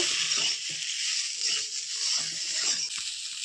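Spinach being stirred with lentils, cumin and salt in a hot frying pan, giving a steady close sizzle with soft scraping and wet stirring sounds throughout.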